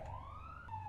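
A faint siren wails with a rising tone, then shifts pitch abruptly, heard from a distance for a moment.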